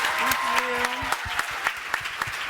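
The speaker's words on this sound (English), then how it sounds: "We didn't give them a round of applause." Applause from an audience at a youth empowerment talk, a patter of claps with sharp individual hits, overlapped by a talking voice.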